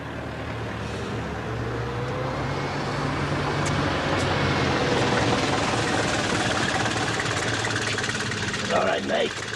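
A taxi engine idles in a steady, continuous rumble throughout, fairly close, with muffled voices faintly underneath.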